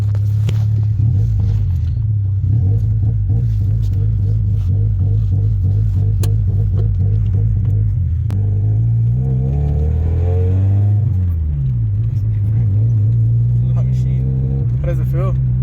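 From inside a Honda Civic EJ8 with a D16Y8 engine cruising at night, a loud, steady low engine drone rises and falls with gear changes and throttle.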